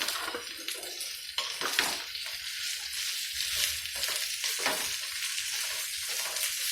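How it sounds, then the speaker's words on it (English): Squash fries in a pot while being stirred, a soft continuous sizzle with scraping and stirring strokes, fairly quiet and close. "Now let me mix them up a little bit"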